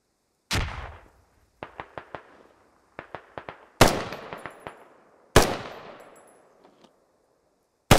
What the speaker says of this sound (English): Or he's shooting at the guy in the window